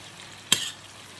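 Ravioli tossed in burnt sage butter in a pan, a single quick sizzling burst and stir lasting a fraction of a second against a quiet background.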